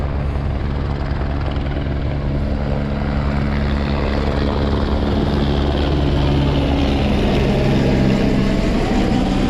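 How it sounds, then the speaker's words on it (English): A helicopter flies in to land at a stunt jump site with a hay-covered ramp and the General Lee car, its steady, loud rotor thump and engine roar filling the whole stretch without letting up. "the helicopter is bringing John down and landing him on top of the General Lee"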